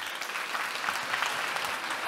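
Applause from the audience at the Tecnológica24 event in Santa Cruz de Tenerife as a speaker is welcomed, steady, even clapping from a crowd at a moderate distance, fairly quiet throughout.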